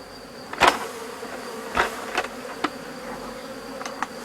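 Honeybees buzz steadily in the background of a hive rescue, with several sharp knocks or taps on a small hive box scattered across the moment, some fairly loud and close.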